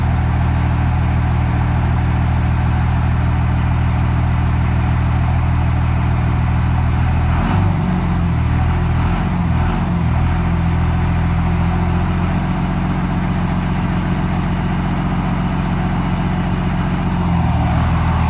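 A 2001 24-valve Cummins diesel engine idles after a Seafoam treatment, a loud, steady low rumble close by that holds throughout, with a brief rougher patch in the middle.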